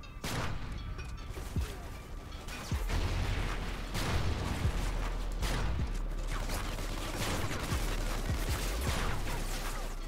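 Online multiplayer firefight in Call of Duty: Ghosts on PS3, with repeated sharp gunshots and explosive bursts scattered across a steady rumbling game mix, moderately loud throughout with no talk over it.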